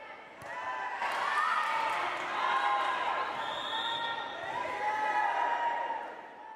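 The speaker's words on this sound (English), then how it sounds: "Fellow students come out to watch and cheer on their peers." Students in a gym crowd cheer at a volleyball game, a steady wash of voices and shouts rising and falling, with squeaks and ball sounds faintly underneath.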